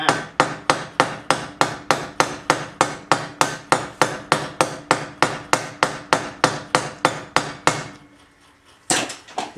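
Steady hammer blows on metal while forming a round head on a rod for a homemade Uzi build. About two dozen sharp, evenly spaced ringing strikes come close and loud, followed by a pause and one final blow.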